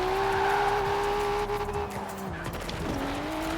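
A car racing in the video game Forza Horizon 4, its engine holding a loud, steady drone that dips and shifts pitch with gear changes, with tire squeal and skidding textures mixed in throughout.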